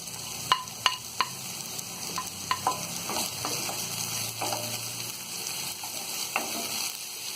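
Onion and capsicum fry lightly in a pan over medium heat, giving a soft steady sizzle with several sharp stirring clicks and taps of a utensil against the pan.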